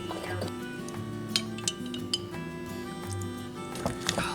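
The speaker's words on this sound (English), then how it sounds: "Let me get a fork and beat it up just a little bit." A fork whisks a room-temperature egg in a bowl, producing light, uneven metallic clinks and taps close by over a steady low background hum.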